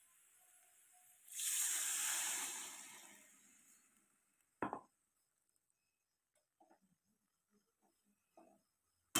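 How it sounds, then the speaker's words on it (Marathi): Water poured into a hot pan of potato curry, giving a loud hissing burst of steam that fades over a couple of seconds, followed by a sharp knock and a few faint clinks. "आता पाणी टाकून घेतेत"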